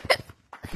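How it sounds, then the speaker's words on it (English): A single hiccup bursts out close and fairly loud during a video game session, followed by a brief quiet gap and then a softer vocal sound. "why do I have hiccups?"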